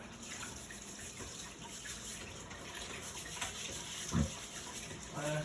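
Running tap water washes a spatula at a kitchen sink, a steady faint stream with a brief splash or clatter near the end.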